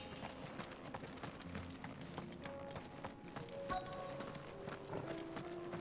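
A character's boots in Final Fantasy XVI land in quick, clopping steps that sound like horse hooves. The footfalls are quiet and fairly even, with no voices.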